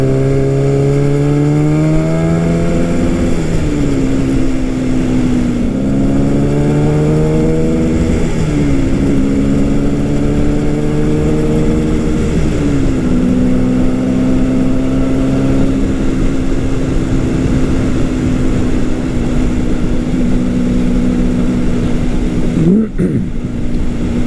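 A 1969 Yamaha R3 350 two-stroke motorcycle rides along a Pennsylvania road. Its buzzing engine climbs and drops through several gear changes, loud and steady throughout, with wind noise beneath it.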